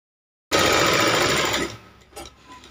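A sewing machine runs a quick burst of stitching on a blouse lining, loud and close for about a second before cutting off, followed by a few faint handling noises.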